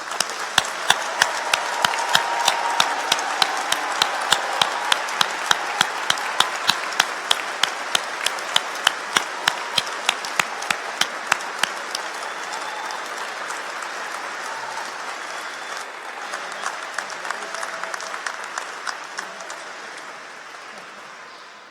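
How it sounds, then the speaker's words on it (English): Sustained applause from a large audience at a college graduation ceremony in the UK, steady dense clapping that swells and then gradually thins out over about twenty seconds, with no talking over it. "one final round of applause for their amazing success"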